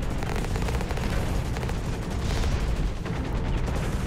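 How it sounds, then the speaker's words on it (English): Sustained rapid gunfire fills a Hawken mech-combat match, a dense continuous rattle of shots with booming low impacts, loud and close throughout with no voices over it. "Whoa, somebody's shooting at me."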